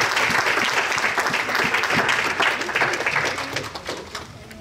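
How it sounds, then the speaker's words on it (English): A church congregation claps together, with loud, sharp hand claps in a fairly rhythmic pattern that fade slightly toward the end, with no voices on top. "good hand clap, everybody"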